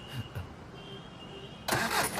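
A car engine cranks and catches, bursting into a loud running roar after a short stretch of quiet background sounds.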